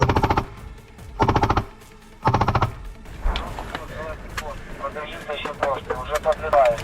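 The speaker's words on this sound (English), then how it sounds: "From the doorway, he sprays them with machine gun fire" Machine gun fire in a trench battle comes in three loud, rapid bursts near the listener, each lasting about half a second. Busy background noise and voices follow.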